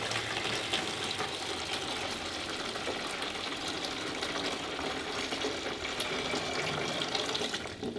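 Water from a central heating towel rail radiator siphons out through a tube in a steady, continuous gushing trickle, close and even for several seconds with no talk.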